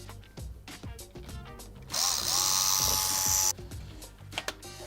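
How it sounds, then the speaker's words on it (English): A small power driver whirs for about a second and a half as it drives a screw back into the wing mount of an ARRMA Talion V3 RC car, framed by close, irregular ratcheting clicks and handling noises. "I'll screw this back in, and that should hold the wing in the right position."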